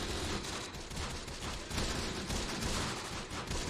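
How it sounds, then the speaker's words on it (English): Mortar or rocket grenade fire crackles through a pitched battle in the World War II strategy game Close Combat, a dense, continuous rumble of distant explosions and gunfire with no clear pauses. "It's a mortar or a rocket grenade."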